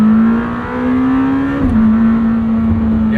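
Lamborghini Temerario on a wet road at part throttle, its engine droning loud and close with a steady tone that climbs slightly, dips at a gear change, then holds.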